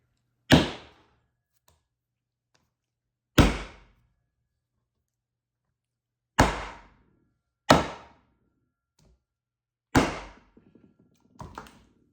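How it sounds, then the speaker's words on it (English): A meat pounder bangs beef flat to thin it for fast frying, landing as five or six sharp, loud thuds spaced a few seconds apart. Each one cuts off quickly, with a few smaller knocks at the end. "This is my meat pounder. And I just bang the hell out of them."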